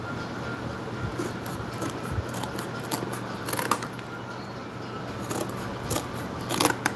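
Scissors snip through cardboard trim on a handmade cardboard model of a medieval watermill, giving sparse, quiet, close-up crunchy cuts over a faint steady background hiss.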